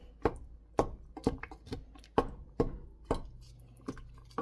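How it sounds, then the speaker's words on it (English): Simmered tomatoes being mashed in a pan for a pasta sauce with sausage: a run of about nine distinct, fairly close thuds and squelches at an uneven rhythm, with no talk over them. "We can mash up these tomatoes now"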